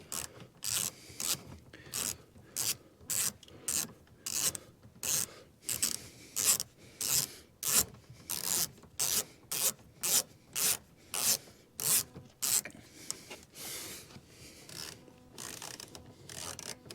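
Hand wrench working a 10mm bolt off the rear parking-sensor unit of a BMW F30, a quiet, close rhythmic ratcheting rasp repeated in steady bursts with short pauses between strokes.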